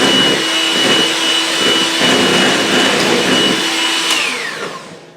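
An electric mixer beats an egg into cheesecake batter for a chocolate chip espresso cheesecake: a loud, steady motor whir that runs without talk and then spins down at the end.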